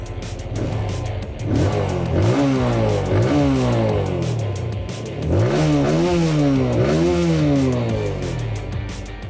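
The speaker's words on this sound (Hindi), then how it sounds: "और वो एस्पेक्ट है एग्जॉस्ट नोट।" A TVS Apache RTR 160 2V motorcycle exhaust rises and falls through two throttle revs, its grunty note climbing and dropping in pitch, loud and close with a rumbling idle between.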